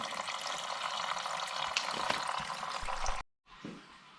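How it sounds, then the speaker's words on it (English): Engine coolant draining from a 2007 Honda Fit, a steady, faint trickling splash that breaks off briefly near the end and then resumes more quietly. "start draining the coolant"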